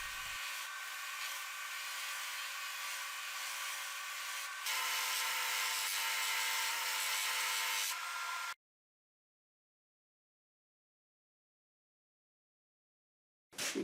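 A power saw cuts steadily through a laminated ultra-thin wood disc in two long, loud passes, with a brief shift in pitch midway, then stops abruptly into silence.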